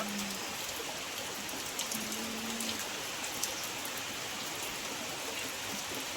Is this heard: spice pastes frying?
no